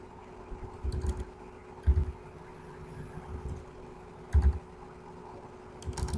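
Typing on a computer keyboard: short clusters of soft key clacks at irregular intervals, close by over a faint steady hum.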